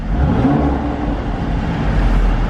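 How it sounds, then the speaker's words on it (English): A 2017 Mercedes-AMG C 43 4MATIC with the AMG exhaust sends out a loud, steady low engine rumble that is close and continuous throughout, with a slight rise in pitch like a rev, and no voices over it. "This one does have the AMG exhaust."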